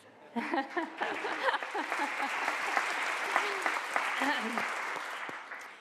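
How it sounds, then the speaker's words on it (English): An audience at a state judiciary address applauds, a broad, even wash of clapping that swells quickly and holds steady, with faint chuckles mixed in. "You applauded, thank you"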